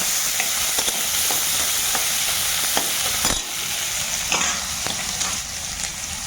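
Chopped onion, garlic and green chili sizzle steadily in hot oil in a pan, close and fairly loud, with occasional spatula clicks and stirring scrapes.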